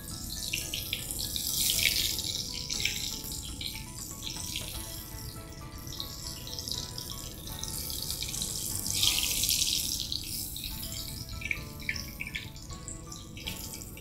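Fish fingers fry in hot oil, giving a steady, close, crackling sizzle that swells and eases throughout with no talking.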